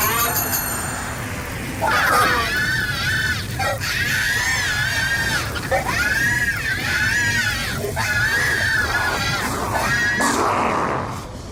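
Monkey Bomb toy from Call of Duty Zombies screaming after being thrown into lava, loud repeated wavering shrieks in bursts over game noise, with no talking.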